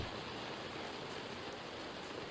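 Steady rain makes an even, continuous hiss with no breaks and no voices over it.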